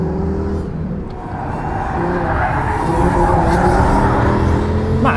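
An Audi S8 with a Lamborghini-derived V10 engine accelerates hard on a lap-timing run, a loud, close, rising engine roar that builds steadily in pitch and volume across several seconds.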